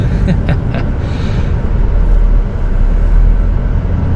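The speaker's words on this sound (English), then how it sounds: "Let's see if this little truck can move all that weight now." A small truck hauling a full water tank pulls away, giving a loud, close, steady low engine rumble that swells briefly as it gets moving.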